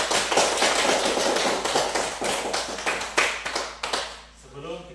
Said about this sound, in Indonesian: Mari dulu kita berikan tepuk tangan untuk kita semua